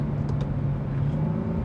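Catless Mercedes CLK63 Black Series engine rumbling steadily as the car slows, a low continuous drone with faint blips of downshifts, close and alone.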